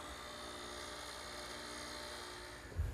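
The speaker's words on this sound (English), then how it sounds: "I'm going to use my mortiser to take out the material." A hollow chisel mortiser drives its drill bit and square chisel into wood, giving a steady, high-pitched motor whine, with a short low thump near the end as the cut bites.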